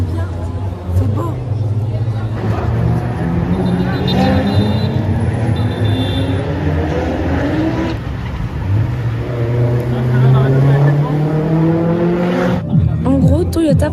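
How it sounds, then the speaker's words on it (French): Cars rev and drive past at a Japanese car festival, engines rising in pitch as they accelerate and pass nearby in a continuous stream, with crowd chatter in the background. "Le bruit, l'ambiance, comment les voitures roulent et passent."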